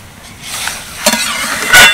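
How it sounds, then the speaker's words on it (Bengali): Water poured into a hot pan of grated mango, with a brief sizzle and stirring scrapes close by, rising in bursts over about two seconds. "এবার এর মধ্যে দিয়ে দেবো জল"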